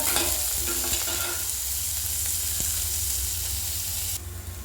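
Onions, green chillies and curry leaves sauté in a pan over a slow flame for corn uppumavu, a close steady sizzle broken by the scrape of stirring.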